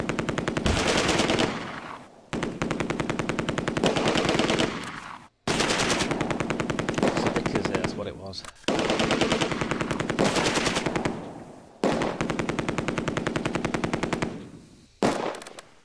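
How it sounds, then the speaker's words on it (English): Heavy automatic gunfire in the video game Close Combat 2: A Bridge Too Far during a multiplayer match, with loud rapid bursts that run in long stretches and break off briefly several times. "Unter schwerem Beschuss!"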